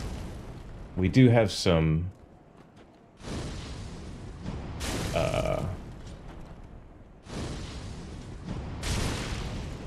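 Fireballs burst in Dark Souls 3 during the Iudex Gundyr fight: three separate roaring blasts, each lasting a second or more, follow a short spoken line and are separated by quieter gaps.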